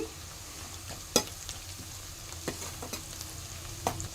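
Onions are roasting with salt in a pan for stuffed brinjal curry, giving a steady quiet frying hiss with a few sharp spoon clinks.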